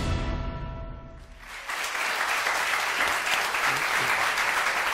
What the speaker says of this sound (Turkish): Efendim bu alkışlar dediğim gibi Akkuş'ta güvenlik görevlilerine gitsin